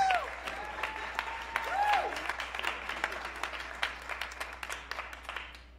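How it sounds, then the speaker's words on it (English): A crowd applauds steadily, dense clapping throughout with a few whoops rising over it, loud and sustained. "Give them a round of applause."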